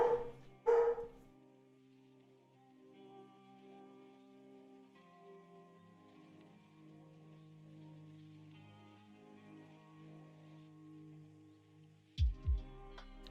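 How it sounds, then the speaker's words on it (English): A couple of dog barks ring out at the start, then a quiet stretch with soft tonal background hum, and another pair of barks near the end. "Dogs are barking."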